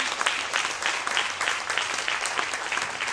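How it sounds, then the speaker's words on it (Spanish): Congregation applauding during a church service, a short burst of dense, lively clapping from a crowd heard close and loud. "Denle un aplauso al Señor"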